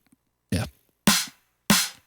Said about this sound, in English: So the Cytec snare sounds like this.